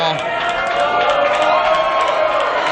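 A wrestling arena crowd cheers for Gisele Shaw in a loud, steady roar of many voices with scattered whoops, close and unbroken for a few seconds.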